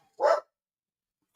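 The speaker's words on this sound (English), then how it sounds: "Fucking dog." A single sharp dog bark rings out close and loud against near silence, followed by the onset of another brief sound at the very end.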